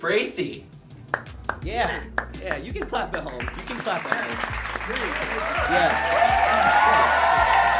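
A studio audience breaks into applause and cheering for a guest. It opens with scattered claps and swells into loud, sustained clapping and whoops, with a host's voice talking over the top.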